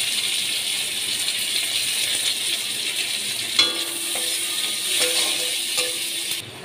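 Chopped onion hits hot oil in a pan with chillies and whole garam masala spices, giving a steady close sizzle with a few sharp crackles and clatters partway through, no talking.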